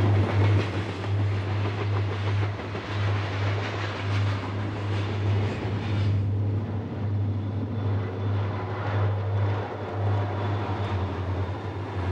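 A heavy Southern Pacific freight train rumbles past close by just north of Klamath Falls, Oregon, with a steady low diesel drone and continuous wheel clatter. No voices.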